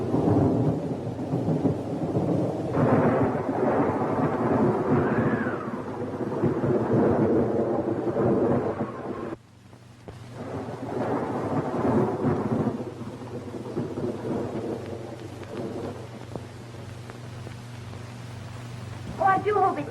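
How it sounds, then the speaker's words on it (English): Loud rolling thunder rumbles over steady rain, with a brief hush partway through before the downpour and distant rumbling resume. "I do hope it stops raining"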